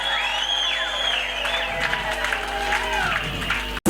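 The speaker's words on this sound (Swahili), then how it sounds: "piga makofi na vigeregere vya hadi ya juu sana" A church congregation bursts into sustained clapping and high wavering ululation, a dense crowd roar with trilling voices rising above it, ending in an abrupt cut.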